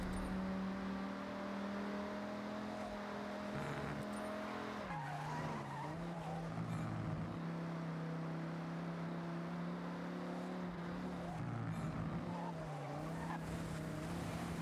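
Dodge Ram SRT-10 pickup with its Viper V10 engine on a flying lap in Forza Horizon, a steady droning engine note that drops and climbs with gear changes, with repeated tire squeal and skidding through corners.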